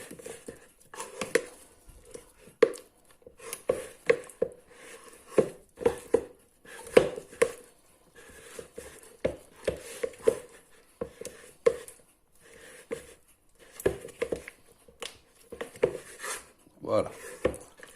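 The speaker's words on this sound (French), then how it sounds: "Je vais faire mon pré-mélange à la cuillère." A spoon works flour and sourdough starter together in a bowl, giving irregular knocks and scrapes against the bowl's sides and bottom, close and fairly quiet, with brief pauses between strokes.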